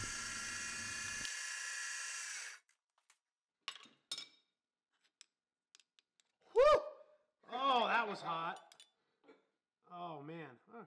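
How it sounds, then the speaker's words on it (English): A carbide end mill on a Bridgeport milling machine at about 1100 RPM cuts titanium, giving a steady high-pitched whine for a couple of seconds before stopping, followed by scattered clicks and some voices. "I'm running at about 1100 RPMs on my bridge port, which is exactly what that carbide end mill wants."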